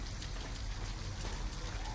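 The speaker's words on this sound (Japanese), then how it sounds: "アリス、とりあえず雨当たらんとこ来い。" Steady rain falls in the video game Detroit: Become Human, a dense, continuous hiss of drops on surfaces that stays even and fairly close with no voices over it.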